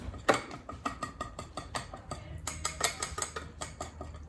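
A whisk clatters rhythmically against a bowl of cinnamon roll pancake batter, fast repeated metallic ticks with a steady beat, close and fairly faint, with no talk.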